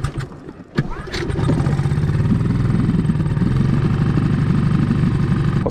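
A motor boat engine on a lake catches after a brief clatter and settles into a steady, throbbing drone, close and loud.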